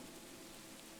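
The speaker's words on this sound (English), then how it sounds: "maybe because it's raining" Steady rain in the video game Motel Manager Simulator, a continuous even hiss of falling drops with no breaks, moderately loud and alone, no talking.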